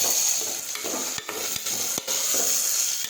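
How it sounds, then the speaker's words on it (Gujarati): Cluster beans and tomatoes sizzle steadily in a hot pan as a spatula scrapes and stirs in several quick strokes, close and loud with no talking. "હવે આ રીતે આપણે સાતળી દઈશું"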